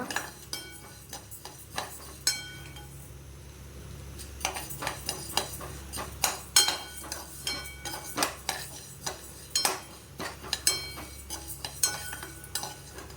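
Ration dal lentils being dry-roasted and stirred in a pan, with repeated light scraping and clinking strokes of a spoon against the pan at an irregular rhythm over a low background hum.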